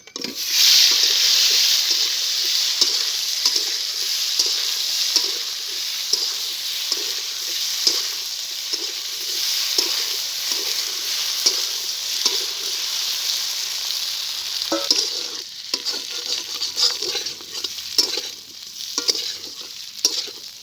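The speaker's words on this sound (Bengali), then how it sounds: "এবার এই তেলে আমি আলুটাকেও ভেজে নেব।" Potatoes fry in hot oil after eggs, making a loud, continuous crackling sizzle with stirring, close and steady, easing slightly near the end.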